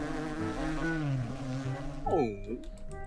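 A droning, wavering buzz of bees in a video game, with pitch slides and swells, followed by a few short clicks near the end.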